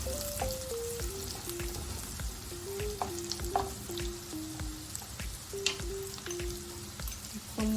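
Onions sautéing in butter with green chili in a pan for chicken pistachio korma, with a steady crackling sizzle and scattered spatter pops up close, while a faint tonal background melody drifts underneath.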